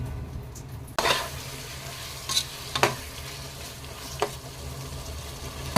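Onions and tomatoes for a chicken biryani simmer in a covered pot with a constant soft sizzle. A sharp clank from the lid or utensil comes early, and a few faint clinks follow.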